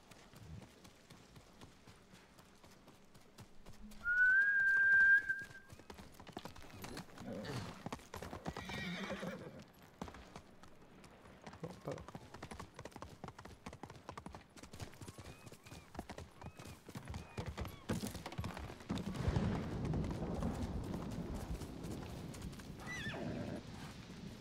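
Repeated hoofbeats clip-clop at a steady pace in the video game Ghost of Tsushima, with a horse's short whinny early on and faint voices in the background.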